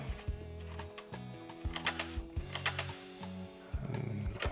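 Windshield bolts being backed out of the front fairing on a 2015-or-later Harley-Davidson Road Glide, heard as a close, quiet run of repeated tool clicks and ratcheting ticks in short bursts.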